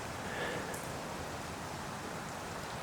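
Rain falls outdoors in southern Australia in a soft, even wash of hiss, steady and fairly quiet throughout with no distinct voices.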